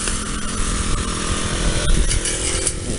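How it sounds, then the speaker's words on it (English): A string trimmer cutting grass along a fence in a commune outside Hanoi drones steadily and loudly at close range with a harsh, buzzing motor whine and slight rises in pitch, running alone without talk. "He's got his strimmer out."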